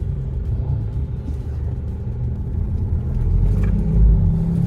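An Isuzu MU-X SUV with a 1.9-litre diesel pulls away under acceleration, its close, steady low rumble swelling louder toward the end, with no voices.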